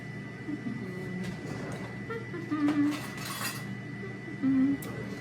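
Metal cutlery rummaged in a kitchen drawer while hunting for a teaspoon, with a few quiet clinks and scrapes and two brief louder jangles, close by under light talk.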